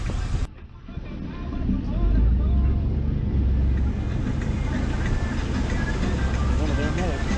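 A car rolls through housing projects in Avon Park, Florida, its engine a steady low rumble with wind buffeting the microphone, continuous and close, while someone talks over the ride.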